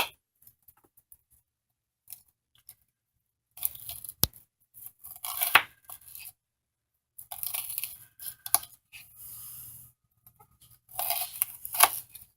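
Scissors snip along the spines of leaves in a home kitchen during pasta sauce preparation, heard as several close bursts of crisp cutting and tearing separated by short pauses.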